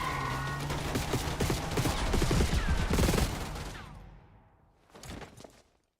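Dense, loud bursts of automatic gunfire rattle nonstop in a Call of Duty Black Ops 6 street firefight, then fade off before a final short burst and silence.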